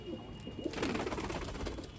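Pigeons coo in soft, rolling throaty calls at close range, building into a busy overlapping murmur.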